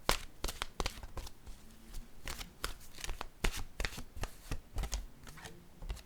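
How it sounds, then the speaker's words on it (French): A deck of oracle cards is shuffled in the hands, giving repeated crisp riffles and slaps at an uneven rhythm, close and clear, with no speech. "Allons-y avec une carte maintenant de mon oracle de l'âme intuitive."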